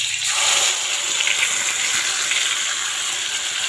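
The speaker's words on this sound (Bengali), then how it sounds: "কচুটা এর মধ্যে ঢেলে দেবো" Taro, chilli and garlic paste poured into a pan over black cumin seeds, a steady close rushing, sizzling wash that fills the whole moment with no talk.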